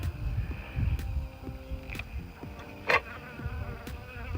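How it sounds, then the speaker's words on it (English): Honeybees in a bee yard in November form a steady, close insect buzz with a low rumble beneath, scattered short louder passes as individual bees fly near, and no talking. "A lot of bees right there"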